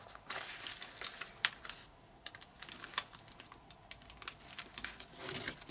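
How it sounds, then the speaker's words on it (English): Origami paper being folded and creased into a transforming emoji model, giving soft crinkles and sharp little crisp snaps up close, quiet and intermittent, with no talk. "We're folding on this point, and we're folding the flap to this edge."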